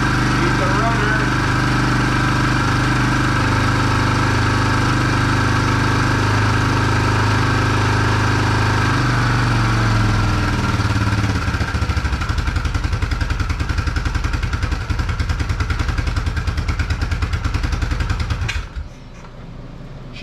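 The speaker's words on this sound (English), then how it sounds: "She's a runner. Just going to turn the idle up a bit more." A Yamaha Big Bear ATV engine runs loud and steady close by with a rough, throbbing idle. Its pitch drops partway through, and the engine cuts out near the end.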